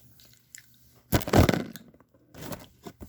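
An eight-year-old child bites into a crunchy Squid Game snack, giving one loud crisp crunch followed by softer chewing and a few scattered smaller bites in a quiet room.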